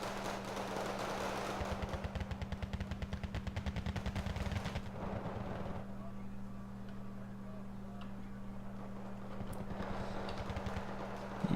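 Video game combat with a helicopter's Vulcan cannon and Hydra rockets firing, heard as rapid rattling bursts of gunfire and booming impacts at low level, with a voice talking over parts of it.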